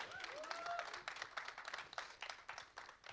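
An audience at a film trailer launch event for Jatt and Juliet 3 claps in a faint, fairly distant patter of scattered applause that runs throughout, with a brief voice early on.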